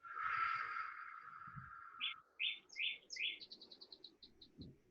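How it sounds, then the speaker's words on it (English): Birds chirp in the background in a series of short, bright tweets that follow a long sustained whistle-like call, fairly distant and clear over a quiet room during a spring exercise class. "I can hear birds in the background."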